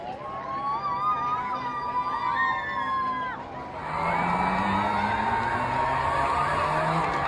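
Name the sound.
crowd cheering for Olympic torchbearer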